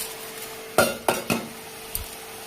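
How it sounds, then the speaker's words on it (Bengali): Whole mung dal being added to a pumpkin curry in a cooking pot: a few sharp clatters and scrapes of a spoon against the pot in quick succession, then a softer knock, over a low background. "এবার মুগ ডালটা দিয়ে দেবো।"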